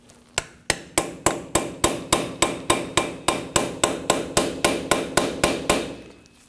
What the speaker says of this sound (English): Just give it some taps while prying out on it.